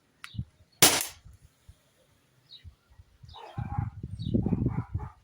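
Two sharp, close cracks from a Walther Q5 Match .177 air pistol ring out near the start, followed by quieter clattering and background noises.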